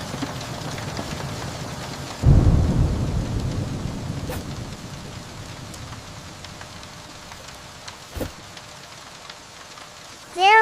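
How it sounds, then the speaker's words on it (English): Heavy night rain falls steadily in a storm, a broadband wash that swells suddenly into a loud downpour, with a couple of brief sharp cracks and a distant rumble of thunder. "On a night of heavy rain"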